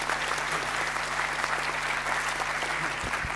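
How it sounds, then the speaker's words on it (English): Audience applause closing a panel session at the ALAI 2022 conference, moderate steady clapping in a hall with a low hum underneath and a couple of soft thumps near the end. "A big applause, please"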